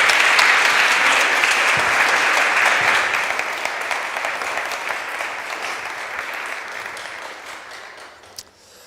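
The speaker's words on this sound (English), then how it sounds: "They deserve an applause." Audience applause at a healthcare innovation conference after a panel conversation, a dense sustained wash of clapping that starts full and gradually tapers off, ending with a few scattered claps.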